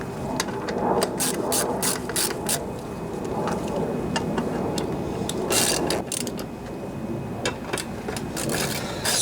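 Ratchet wrench tightening the carburetor bolts on a Briggs and Stratton 18.5 hp V-twin OHV Intek lawnmower engine: close, rapid clicking bursts repeating in short strokes, with no talk.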